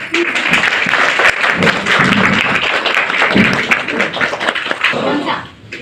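An audience at a beauty parlour course demonstration claps loudly and steadily for several seconds, with scattered voices mixed in, before the applause thins out at the end.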